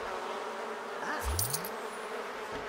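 Bees buzz around a beehive in The Sims 4, a soft, steady insect drone with light tinkling game effects over a quiet background, no talking.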